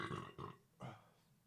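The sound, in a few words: burp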